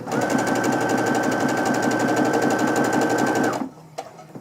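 A sewing machine runs steadily at speed, stitching fabric 60-degree triangles placed right sides together, a close, even motor whir for about three and a half seconds before stopping abruptly.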